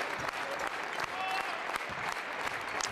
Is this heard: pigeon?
no